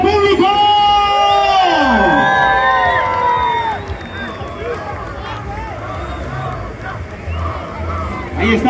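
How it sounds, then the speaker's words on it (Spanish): A large festival crowd at the International Paper Balloon Festival in San Andrés Tuxtla shouts, whoops and cheers loudly, rising voices peaking at the start before settling into a lively, sustained outdoor hubbub. "¡el grito del público!"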